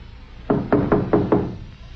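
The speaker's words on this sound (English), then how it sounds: "Harry knocked." Five firm knocks on the wooden door of a caretaker's cottage, evenly spaced and close, sharp and solid with no talking.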